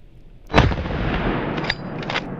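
A single sharp rifle shot from a .30-06 loaded with Solognac Exergy Blue lead-free ammunition cracks out close and loud on a hunt, followed by a long rolling echo that fades away across open ground.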